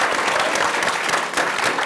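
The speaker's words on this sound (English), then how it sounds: "Please give them a huge round of applause." Enthusiastic audience applause at a panel event for creatives, a dense, continuous wash of clapping filling the room.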